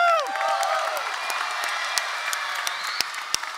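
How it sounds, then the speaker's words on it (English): Audience applause for teachers at a school arts event, a dense sustained clapping from a crowd heard alone, steady throughout with a few sharper individual claps near the end. "I'd like to give you a big round of applause."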